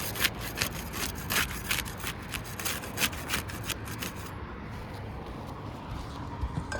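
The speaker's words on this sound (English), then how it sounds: "We'll use the putty knife to unseal the top shingle." A putty knife scrapes and pries under the top asphalt roof shingle to break its seal, giving repeated rough scraping strokes that are close and fairly steady, then ending in softer rubbing.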